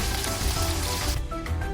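Honey-marinated chicken sizzles while pan-frying, a loud dense crackling hiss that cuts back suddenly near the end, leaving quieter spits and pops.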